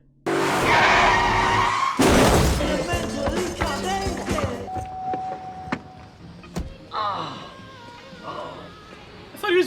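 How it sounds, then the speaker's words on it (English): A high-speed car chase with skidding tires in The Sopranos TV drama: loud screeching skids and engine roar with sharp impacts and crashes, then quieter, with voices talking over the scene. "Why are we getting a high-speed fucking car chase?"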